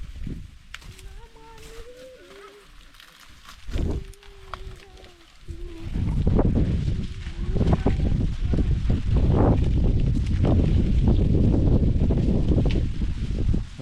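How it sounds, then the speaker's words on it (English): Strong evening wind buffets an outdoor village spot during a harvest. Gusty, rumbling roar and microphone buffeting build and stay loud in the later part, with a voice speaking over the quieter opening. "There's actually a lot of wind."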